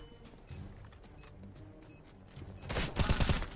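Gunfire in the video game Counter-Strike: Global Offensive, a quiet sparse opening of faint clicks and distant shots, then a loud burst of rapid shots near the end.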